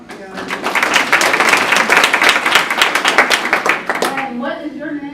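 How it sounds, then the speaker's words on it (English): Audience at a ministry training event clapping together, a dense, close burst of many hands that builds and holds for about four seconds, with voices joining near the end. "Let's hand clap them up together."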